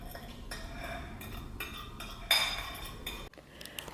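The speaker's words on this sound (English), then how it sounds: "you can just use a fork to mix it a little" A fork clinks and scrapes against a bowl while mixing French toast ingredients, a few quiet metallic taps and stirs close by, with one sharper clink near the end.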